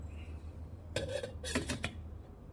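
A metal spoon clatters and scrapes against a pot while salt is stirred into cauliflower pulao, a short burst of three or four close, bright clinks after a quiet moment.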